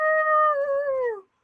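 A human voice imitates a wolf howl: one sustained, tonal howl that holds steady, slides downward and cuts off cleanly, with no other sound around it.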